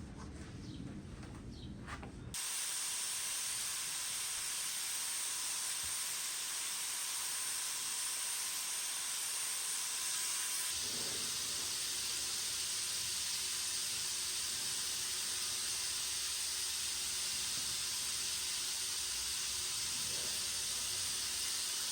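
Spray gun laying down another coat of paint on an old lab dresser, a loud steady hiss that starts abruptly after a brief quieter moment and runs on without a break.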